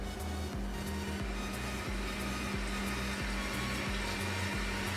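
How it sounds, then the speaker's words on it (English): Relaxing rain played from a Google Home smart speaker makes a faint, steady broadband hiss with a soft, repeating low throb underneath and no voices. "This is the sound of rain."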